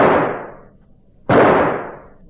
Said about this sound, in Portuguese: Você dispara tiros de advertência